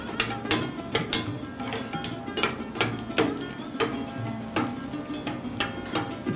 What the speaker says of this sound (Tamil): இந்த முந்திரி பருப்பை வறுத்துக்கலாம்